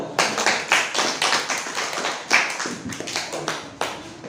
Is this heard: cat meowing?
no